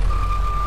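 Steady electronic reversing beeps from a 2000 Bluebird 3800 school bus backing out in the Rigs of Rods driving simulator, a continuous tone over a low engine rumble, with no talking.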